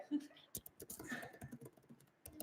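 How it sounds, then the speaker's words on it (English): Someone quietly types a comment on a computer keyboard during a live online event. The soft, uneven clatter of keys comes in quick bursts under low, murmured talk. "I'm typing in a comment."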